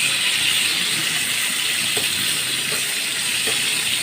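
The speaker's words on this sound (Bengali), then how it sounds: "আমি এখানে কয়েকটা পটল এই যে ভাজতে দিয়ে দিয়েছি" Pointed gourd (potol) frying in oil in a pan, a steady broad hiss of sizzling that continues evenly throughout with a few faint clicks and no voices.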